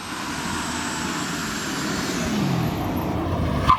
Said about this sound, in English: The car is not really taking the gas properly, so I'm giving full gas right now